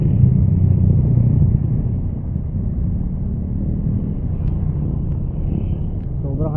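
Road traffic on a busy street, a low steady rumble of passing vehicle engines that eases slightly after the first couple of seconds, with faint sounds on top.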